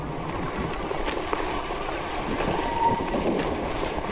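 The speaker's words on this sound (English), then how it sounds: "We got a really crazy headwind right now." Strong headwind roars and buffets against the microphone in steady gusts while riding an Engwe M20 2.0 electric bike, with a low rumble throughout and no voices.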